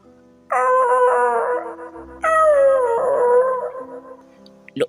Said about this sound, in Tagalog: isang malakas na ungol ang narinig nila mula sa loob ng puno